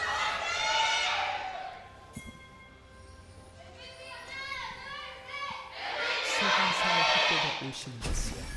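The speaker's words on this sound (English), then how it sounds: "There's a little bit of a delay there on the MVP cheer." A crowd in an esports arena at an LCK Summer Split 2017 League of Legends match cheers for team MVP in swelling waves of shouting, rising and fading several times, with commentary in between.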